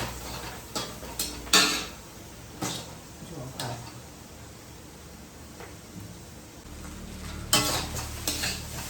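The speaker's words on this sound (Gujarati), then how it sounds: "અત્યારે હું ભાત બનાવી રહી છું, જોઈ શકો છો તમે." Tempered rice cooks in a pot on a home stove, and a spoon scrapes and knocks against the metal in scattered clanks over a low background hiss, with someone speaking at times.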